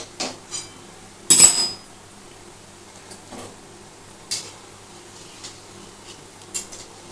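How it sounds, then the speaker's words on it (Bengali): A wok of frying pantua, sweet dough balls for a Janmashtami dessert, is shaken and stirred in scattered metallic clinks and scrapes, with one loud clatter near the start, over a low steady frying hiss. "আমার এখন একটু কড়াটাকে এরম এরম করে একটু নাড়িয়ে দেওয়া"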